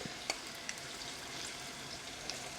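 Spoonfuls of banana batter for pazham pori fry in hot oil with a steady, soft sizzling hiss, broken by a few faint clicks from the spoon.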